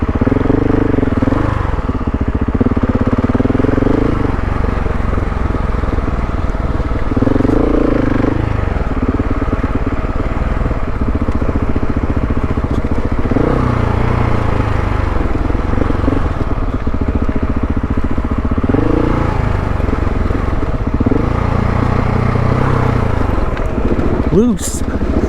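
A KTM 690 Enduro R single-cylinder motorcycle is ridden on loose dirt at Government Mountain. Its close, steady engine drone rises and falls as the throttle opens and closes, with voices heard at times over it.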